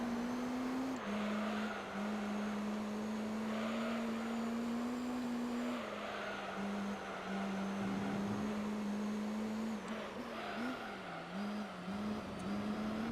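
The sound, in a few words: Vertigo race car engine in Gran Turismo 3 video game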